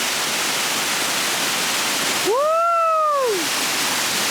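Steady, loud roar of rushing water from a waterfall in Ratnagiri, with a brief rising-then-falling whistle-like tone partway through.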